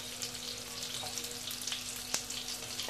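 Onion fries in hot oil in a pot for an autumn asparagus soup, a continuous close sizzle with scattered pops and crackles, heard alone.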